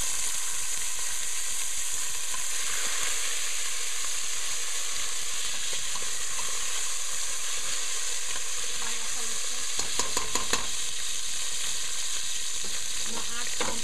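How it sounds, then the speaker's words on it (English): Half a cup of green beans sizzle steadily in a hot pan for basmati rice, a constant bright frying hiss with occasional scrapes and clicks of stirring near the end. "I'm going to throw in a half a cup of green beans."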